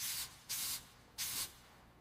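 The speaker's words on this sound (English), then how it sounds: "I spray a little room freshener." Room freshener sprayed in a tidy bedroom, three quick hissing bursts, the first about a quarter second, the next two longer, separated by short quiet gaps, close and clear with no voices.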